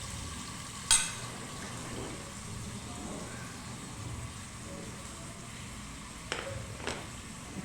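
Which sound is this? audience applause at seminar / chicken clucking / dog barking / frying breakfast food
frying breakfast food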